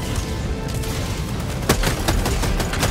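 Rapid heavy bursts from an autocannon in the sci-fi shooter game Helldivers 2, loud and close, with a dense rattle of repeated shots and sharp cracks stacking up over a battle din.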